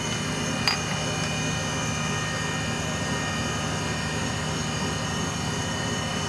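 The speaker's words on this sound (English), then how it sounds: "sounds like the spindle is running, it's because it is." A steady lathe spindle hum with a low drone and high whining tones runs continuously, and a single sharp metallic tick sounds near the start.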